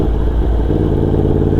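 A Suzuki Hayabusa motorcycle engine gives a loud, close, steady low rumble that shifts slightly in pitch as the bike rolls past, with no voices.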